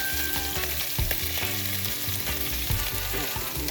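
About a pound of shrimp fry in coconut oil in a pan, a loud, steady crackling sizzle with irregular pops and clatters as the pieces land and shift, with no voices.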